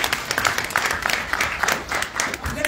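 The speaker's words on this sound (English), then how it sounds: "I think he deserves a round of applause" Conference audience applauding for a keynote address, a dense wash of many hands clapping at moderate distance, steady and sustained with a few louder claps standing out.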